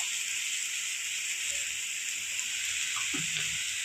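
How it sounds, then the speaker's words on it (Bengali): Ground spices hit garlic frying in oil and give a soft, steady sizzling hiss, faint and continuous, with a few small clinks near the end. "রসুন দিয়েও আমি খুব ভালো করে ভেজে নিয়েছি এবার গুঁড়ো মশলাগুলো দিয়ে দেব"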